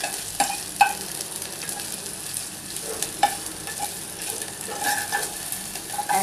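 Ginger and garlic frying in oil in a pan for vegetable chop suey, a steady sizzle with occasional stirring clinks and scrapes, close and continuous.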